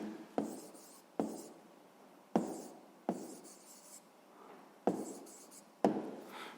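Pen strokes on paper as a math answer is written down, several short scratchy bursts with sharp onsets spaced irregularly, close and quiet with no talking.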